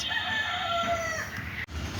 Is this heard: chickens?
yes